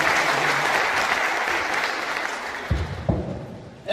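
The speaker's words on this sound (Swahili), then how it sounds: "Let's put our hands together for Mr." Parents and guests at a girls' high school induction ceremony give a sustained round of applause that gradually fades, ending with a few louder thumps and handling knocks close by.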